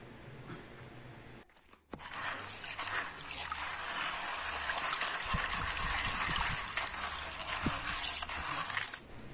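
Beans being washed in a pot of water, with steady sloshing, splashing and draining, a brief pause near the start and then continuous close, moderately loud water noise.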